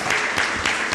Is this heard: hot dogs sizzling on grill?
no